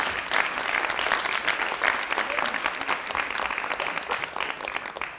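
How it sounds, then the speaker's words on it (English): An audience at a magic show bursts into dense, sustained applause after a ring trick, a thick wash of many hands clapping that stays loud and slowly thins toward the end. "Give her a nice round of applause."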